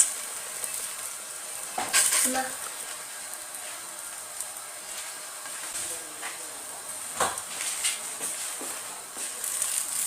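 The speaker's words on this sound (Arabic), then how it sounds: "المقله تكون سخونه مزيان. نحاول هنا نرشها بواحد شويه هكا ديال الزيت" Moroccan msemen flatbread frying in a hot oiled pan, a soft, steady sizzle with a few louder crackles and scrapes near the start and middle.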